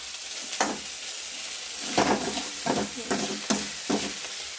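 Okra and onions frying in a little oil, a soft continuous sizzle broken by several sharp stirring scrapes at uneven intervals, close and clear.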